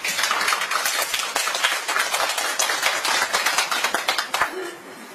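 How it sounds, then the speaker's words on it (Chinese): Audience clapping as a speaker returns to the stage at a Chinese lecture event, a dense patter of individual claps close by that thins and fades toward the end. "掌声给到"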